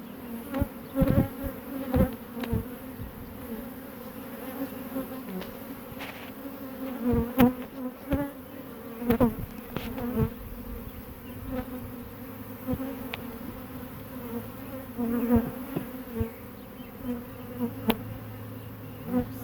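Honey bees buzz steadily around an opened hive during an inspection, a dense droning hum with individual bees passing close now and then.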